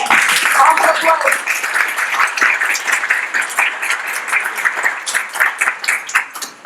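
A crowd at a LEGO event breaks into warm applause to welcome author and public speaker Alex, many hands clapping densely and steadily, with a few voices and cheers mixed in near the start.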